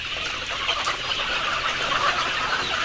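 Layer chickens clucking as they are loaded into a vehicle, a dense, steady mass of bird calls and rustling heard close up without any voices.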